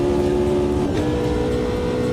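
A loud race car engine in a sim racing video game roars steadily as it accelerates out of a corner, a continuous close mechanical drone with a slight pitch shift midway.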